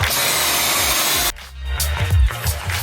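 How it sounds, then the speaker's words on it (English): A power drill fitted with a 7/8-inch Forstner bit bores an overflow hole through a self-watering wooden garden bed, with a scrap board backing the cut. It whines loudly for over a second, then stops, followed by scattered handling clatter. "using a 7/8 Forstner's bit to drill our hole for the overflow"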